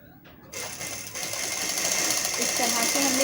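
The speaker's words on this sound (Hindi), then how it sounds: "इस तरह से हमने लेते हुए पूरे पे सिलाई कर लेनी है" A sewing machine stitches a trouser, its rapid mechanical whir starting after half a second and running steadily and close, growing slightly louder, with someone speaking over it.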